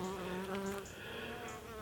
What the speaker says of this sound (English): these are the bees that I've got out of an old oak tree that had been fallen down in the wind